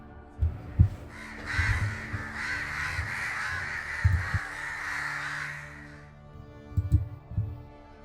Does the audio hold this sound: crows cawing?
yes